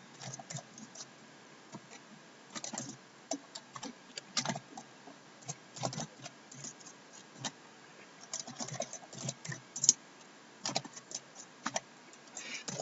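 Code typed on a computer keyboard, with quiet, close key clicks arriving in irregular bursts and short pauses, alone without talk.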